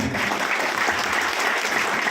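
A seated audience applauds a senior business achiever on stage, a dense, steady wash of many hands clapping that stays loud and even from start to finish, with no talking over it.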